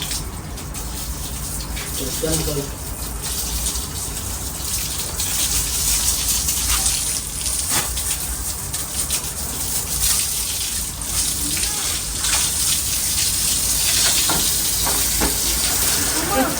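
A kitchen tap runs in a steady, full gush of water lasting the whole stretch, heard close and continuous, with faint clatter and background voices underneath.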